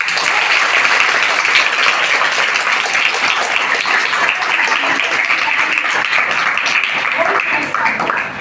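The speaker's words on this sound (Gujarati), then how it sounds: "સર માટે બહુ જોરથી તાળીઓ પાડો" Loud, sustained applause from a school annual-festival audience, a dense wash of many hands clapping steadily for the whole stretch and easing slightly at the very end, with no clear voices on top.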